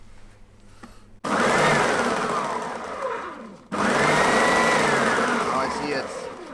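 A Triton band saw starts up twice, each time jumping to a loud, steady mechanical whine with a high tonal sweep that settles and slowly fades, separated by a brief gap; a short spoken word comes before the first start.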